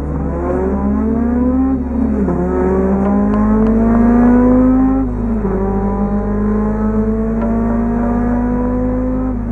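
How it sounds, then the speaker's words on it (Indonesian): A car engine accelerates as it overtakes an old bus on an empty road. The steady, close engine drone rises in pitch, drops at a gear shift around two seconds, then climbs again, with no voices. "maka Novita berusaha untuk menyalipnya"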